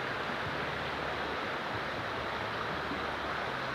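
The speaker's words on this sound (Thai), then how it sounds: "โอ้ยลม" Wind buffets a microphone outdoors at a rat-trapping spot, giving a steady, low rumbling hiss that holds at an even level throughout.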